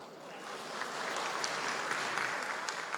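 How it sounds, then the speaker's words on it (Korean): Audience at a Korean defense science and technology expo ceremony applauds award winners, a steady wash of many hands clapping that swells slightly and continues evenly, with no talk. "한 분 한 분 한 걸음 할 때마다 큰 박수를 해주시면 그 힘이 함께 모여질 것 같습니다"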